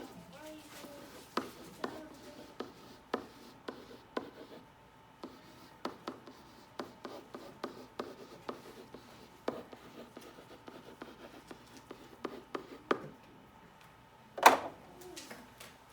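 Students in a classroom writing on sticky notes, a quiet, uneven series of pen scratches and taps over a long stretch, ending in one louder knock, with faint voices in the background.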